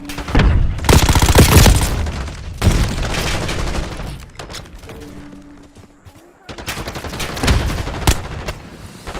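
Gunfire and explosive blasts from Call of Duty Warzone Mobile, including a stun grenade detonation, come in loud dense bursts with brief lulls, a quieter stretch midway before heavy firing resumes.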